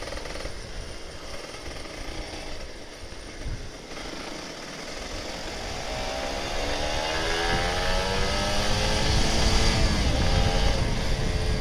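An old Kawasaki Ninja RR 150 two-stroke sport motorcycle engine rumbles steadily in traffic, its pitch rising and sweeping as the bike accelerates, with a growing, fairly loud drone.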